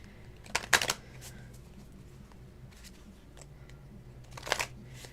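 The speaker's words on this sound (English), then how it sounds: "One more shuffle here." Two brisk bursts of tarot cards being riffled and shuffled, one near the start and one near the end, with quiet low hum in between.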